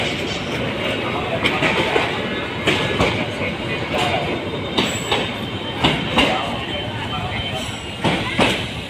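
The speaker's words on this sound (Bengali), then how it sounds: "ঢাকা থেকে আখাউড়া উদ্দেশ্যে রওনা দিচ্ছে Dhaka two Akhaura 30 kilometre train" A Titas commuter train of Bangladesh Railway, hauled by locomotive 2322, runs from Dhaka toward Akhaura, giving a steady loud rumble with rhythmic wheel clacks and rail squeals throughout.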